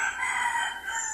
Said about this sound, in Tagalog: Parang mga manok.